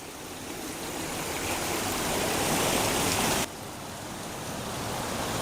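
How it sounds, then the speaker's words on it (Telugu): Stream water from fields above pouring into a hole toward a river channel running underground, a steady rushing hiss that swells slightly, briefly drops, then builds again, with no talking. "ఆ పొలాల నుండి ఈ వాటర్ వెళ్తూ ఇక్కడ ఇదిగోండి ఈ కన్నం నుంచి లోనకైతే పడుతూ ఉంది వాటర్"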